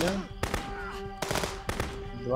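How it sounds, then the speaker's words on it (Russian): Gunfire in the police video game Contraband Police: several sharp, loud shots in quick succession, some close together, with a voice briefly heard between them. "Два выстрела."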